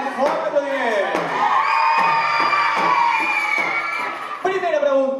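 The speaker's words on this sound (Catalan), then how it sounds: "I de l'Urgell, Bernat, Noa Marí i Martina Reyes, un fort aplaudiment." Young quiz contestants are greeted by a crowd of children cheering and shouting in long, bright sustained calls, loud and close, with clapping hard to pick out beneath the voices.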